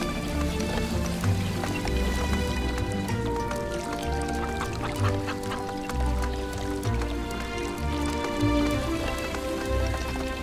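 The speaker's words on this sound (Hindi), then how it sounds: "पानी आने लगा।" Water begins flowing from a lever-operated mechanism with a windlass, a steady patter of splashing and dripping that continues evenly throughout, accompanied by soft background music.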